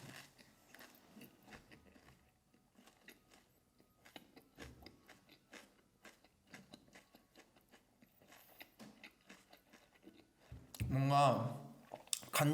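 Soy sauce pork belly wrapped with pickled radish and eaten up close: soft, faint chewing and wet mouth sounds, followed near the end by a louder crunchy burst. A voice talks quietly at moments.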